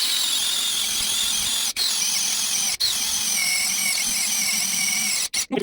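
A GTM cordless screwdriver drives in a screw with a steady, loud high-pitched whine that runs almost continuously, broken by a few brief pauses before stopping near the end.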